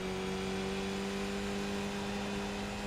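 A Mazda MX-5 race car engine drones steadily in the iRacing sim at Donington, a constant, buzzing tone held at fairly even pitch and volume throughout, with no talking.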